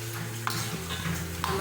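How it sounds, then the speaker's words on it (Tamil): Peanuts fry in hot oil for a Malaysian nasi lemak side, giving a dense steady sizzle with a couple of brief stirring scrapes, close and continuous. "Now we are actually frying the peanuts."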